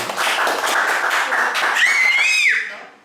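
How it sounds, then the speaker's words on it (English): Audience clapping at a community center meeting, a steady dense patter under loud overlapping talk that fades out near the end. "We're gonna clap for you."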